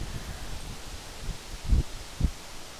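On a windy evening, wind moves through leaves with a soft, steady rustle, and a couple of louder gusts or bumps come near the end.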